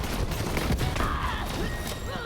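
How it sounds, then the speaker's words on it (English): A shotgun fires amid chaotic Borderlands 3 combat, the blasts buried in a constant, dense wash of explosions, impacts and mechanical clatter with little pause. "Nice range on that shotgun."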